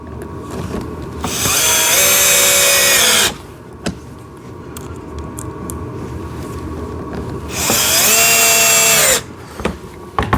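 A power drill drives small screws into a blue and red JCB ride-on toy tractor with two loud, close whirring bursts of about two seconds each, quiet handling noises in between.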